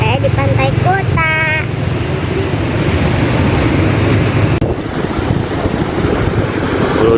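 Surf rolls in at Kuta Beach in Bali, a steady loud wash of breaking waves mixed with strong wind buffeting the microphone, with a brief burst of a person calling or singing near the start.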